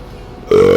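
A single loud, abrupt burp bursts in after a quiet moment and holds as a short buzzy belch, close to the mic.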